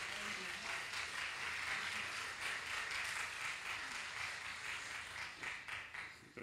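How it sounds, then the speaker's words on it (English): Audience applause after a talk on Facebook pages for nonprofits, a sustained patter of clapping from a room of listeners that thins out toward the end, with some voices faintly underneath. "let's clap first"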